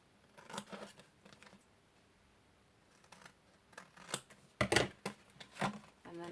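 Scissors cutting paper for a box-in-a-bag gift wrap, snipping out a square and notch: irregular crisp snips and rustles, a few stronger bursts toward the end, close and clear, with no talking.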